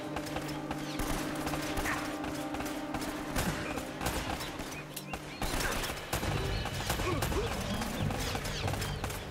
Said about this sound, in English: there's a lot of gunfire coming from somewhere nearby